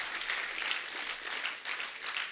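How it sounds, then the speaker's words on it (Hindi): Steady applause from a crowd, a dense wash of clapping that holds at an even level throughout. "पर यार ये तालियां बनती यार"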